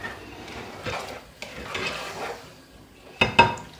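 Risotto rice being stirred in a pan with broth, soft scraping and faint simmering in a quiet kitchen, ending with a couple of sharper utensil knocks against the pan.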